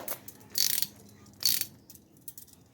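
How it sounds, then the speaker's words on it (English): Socket wrench ratcheting while a part is screwed in during restoration of a 1966 Dodge Dart GT barn find; two short bursts of clicking close by, quiet, with no talking. "Just as it starts to come up, I'm going to start using a socket wrench."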